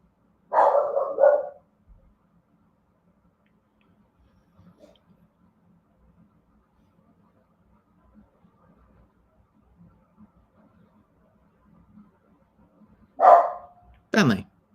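A dog barks in short bursts at the start, then quiet with faint background noise, before another couple of sharp barks near the end.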